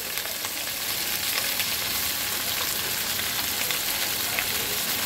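Bottle gourd hits a hot oiled pan, producing a continuous loud, bright sizzle and fry that holds steady throughout with faint stirring crackles and no voices.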